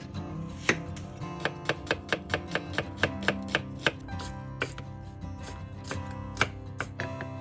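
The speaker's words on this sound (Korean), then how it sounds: "썬 양파는 다시 여러 번 다져서 준비를 해주면 됩니다" A knife mincing sliced onion on a cutting board, with a run of quick, crisp chops that pauses and then resumes with a few sparser strikes, close and clear with no talk.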